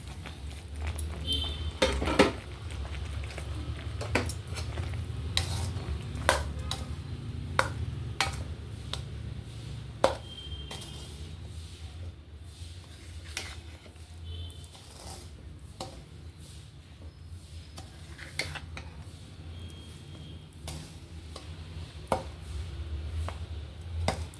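Roasted wheat rava being stirred into hot sugar syrup for ravva laddu, with repeated scraping and tapping clicks of a spoon against the pan over a steady low background hum.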